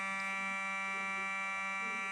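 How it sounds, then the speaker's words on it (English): A fire alarm sounds steadily as a continuous electronic tone, faint and unbroken, with no voices over it. "Do you have a Fire alarm?"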